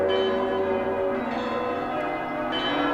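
A giant 9-ton cathedral bell rings loud and close, its deep sustained tone humming and ringing on without a break, with no voices.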